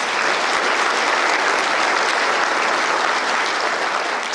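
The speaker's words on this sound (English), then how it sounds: "How about a round of applause for these folks?" Steady, full applause from a sizable audience at a chamber of commerce annual event, dense clapping sustained evenly throughout with no voices standing out.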